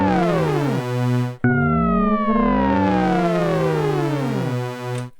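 Wild, morphing FM tones from a SONICWARE Liven XFM synthesizer with pitch locking switched off: dense sweeping harmonics glide up and down against sustained low drones, cut off briefly before a fresh swelling sweep, loud and alone.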